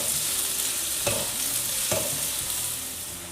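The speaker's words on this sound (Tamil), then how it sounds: "இது நல்லா வதக்கி விட்டுக்கலாம். ஆனியனு கலர் சேஞ்ச் ஆகிற வரைக்கும்." Chopped onion sautéing in a pan gives a loud, steady sizzle near at hand, broken by two distinct scraping stirs, with no voices.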